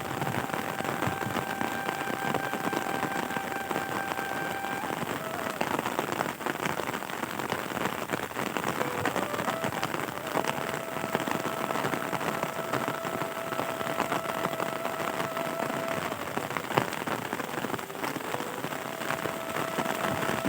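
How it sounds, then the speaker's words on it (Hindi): Heavy rain falls steadily in a village in Punjab, Pakistan, a dense close hiss of drops on surfaces, with a faint engine droning in the background. "खूबसूरत बारिश है बारिश तेज़ हो गई"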